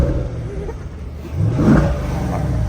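Chevrolet Corvette V8 engine idling with a low rumble, then a brief moderate rev that swells and settles back, heard close up with no talking.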